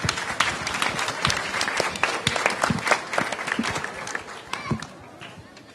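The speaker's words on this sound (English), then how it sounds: "If we could have another round of applause for all of our readers" Another round of applause for the volunteer readers at Seaton school during a Washington, DC reading and fitness event: a crowd claps densely and steadily nearby, with a few voices mixed in.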